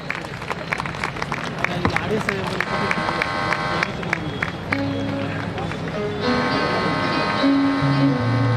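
Audience applause at an outdoor Christmas celebration on a Hyderabad grounds, a steady crowd clapping mixed with hubbub and voices, with some music tones toward the end.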